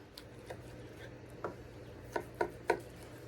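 A knife slices through smoked back ribs cooked on an Oklahoma Joe's Bronco, a few soft scrapes followed by three crisp, close cutting crunches in quick succession over a low steady hum.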